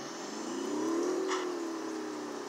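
A diesel 2006 Chevy Silverado 2500 engine in the driving game Rigs of Rods revs up and eases back in one smooth, fairly quiet swell with a faint whine, no talk over it.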